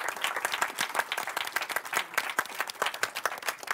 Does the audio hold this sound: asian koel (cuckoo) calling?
no